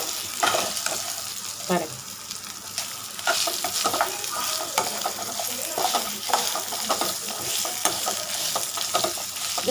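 Sesame seeds, chana dal and urad dal sautéed in a pan for a sesame chutney, a bright crackling sizzle broken by repeated scraping stir strokes, close and fairly loud, with a brief spoken word.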